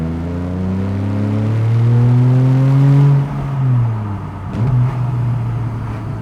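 A Porsche 911 Carrera 4S with its 3.8-litre naturally aspirated engine revs up loud and close, rising to a peak, easing off briefly, then climbing and settling again.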